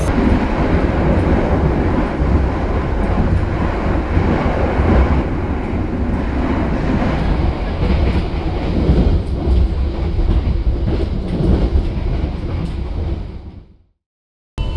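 A passenger train, the Ranggajati economy service to Yogyakarta, rumbles steadily along the rails, loud and close, with rolling wheel noise that cuts off abruptly near the end.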